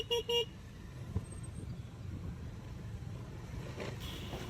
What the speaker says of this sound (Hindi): ये है चंडीगढ़ का ट्रैफ़िक।